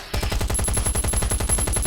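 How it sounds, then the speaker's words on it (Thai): Rapid automatic M7 rifle fire in the video game Last Island of Survival, in steady bursts, loud and close, with sharp regular shots repeating throughout and no talking. "เมื่อกี้มันมีเสียงปืน M7 ครับแถวนี้"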